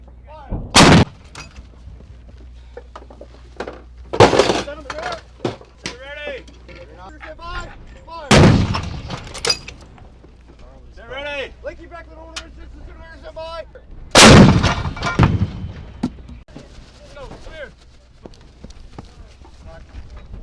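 US tank cannons fire during a combat mission, four heavy booming shots spaced several seconds apart, loud and close, with radio chatter and voices talking between the blasts.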